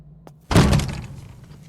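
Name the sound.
door slamming shut in horror game Pieces of Me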